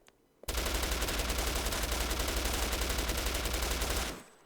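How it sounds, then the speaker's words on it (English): Sustained rapid gunfire from the video game Into the War, a loud continuous burst lasting about four seconds that starts abruptly and then cuts off, with no talking. "Oh, the game has gun sounds."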